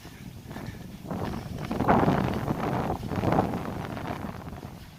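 Bora wind gusts across the Grmača hillfort on the Karst, making a steady, rushing, broadband roar on the microphone that swells and eases in two stronger surges, with no voices.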